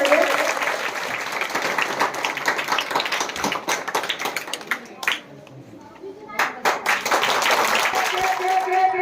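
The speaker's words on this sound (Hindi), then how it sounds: "तो आप लोग एक बार जोर से ताली बजाइए।" An audience at a gathering honouring two teachers claps loudly and continuously in a dense patter, dips briefly, then swells again, with scattered voices mixed in.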